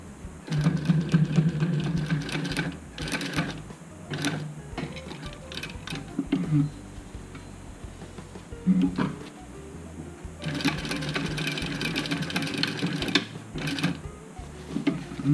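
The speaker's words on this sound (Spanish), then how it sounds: "Aquí voy a dar unas puntadas para sujetar bien el elástico." A sewing machine stitching elastic onto a fabric face mask, with bursts of rapid mechanical clatter from the needle that start and stop in several runs, separated by quieter pauses and small handling sounds.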